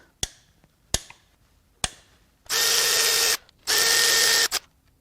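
Ratchet unbolting a connecting rod on a 2019 GMC Sierra 5.3L L84 engine: three sharp separate clicks, then two longer bursts of fast ratcheting, close up and clear with no talk.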